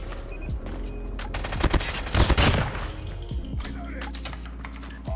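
Rapid bursts of FAMAS rifle fire ring out in a Call of Duty Mobile match, sharp cracking shots bunched into a loud volley in the middle, with a player's voice talking over the action.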